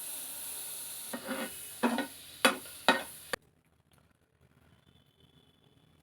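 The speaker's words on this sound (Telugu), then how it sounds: "ముందుగా ప్యాన్ పెట్టుకుని హీట్ అయిన తర్వాత దాంట్లో కొంచెం బటర్ వేసుకొని" Butter melts in a hot pan with a soft sizzle and a few sharp scrapes, then the sound drops away to near silence.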